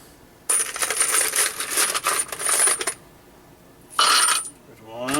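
Handfuls of 300 Blackout brass rifle cases dropped into a metal collator: loud, dense metallic jingling and clattering for over two seconds, a pause, then a second shorter burst of clinking brass, with a brief voice at the very end.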